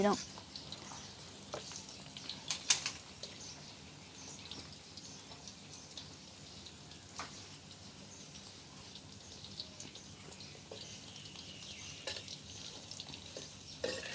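Sun-dried beef fries in a pan with a low, steady sizzle and occasional crackles and pops, heard faintly over a quiet background.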